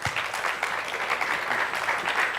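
A live show audience applauds a performing duo, with dense, continuous clapping from a crowd that holds at an even level throughout.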